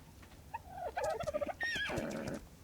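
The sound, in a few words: horse neighing in a video game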